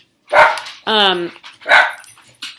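Dogs barking after thunder and lightning, a few sharp close barks and a whining yelp in quick succession, mixed with a person talking.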